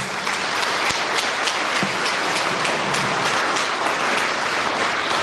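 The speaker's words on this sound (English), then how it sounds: "please give them a huge round of applause" Sustained applause from a large audience at a school sports day celebration, dense clapping holding at a steady loudness throughout.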